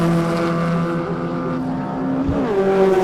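Formula Vee race cars scream past on a circuit during a race, several high-revving engines overlapping loudly at close range, with pitch shifts as they pass and change gear.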